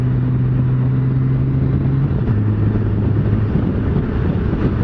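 A 2018 Honda Goldwing motorcycle cruises steadily under engine and wind noise, with a drop in engine tone partway through as it shifts up into sixth gear on its six-speed gearbox.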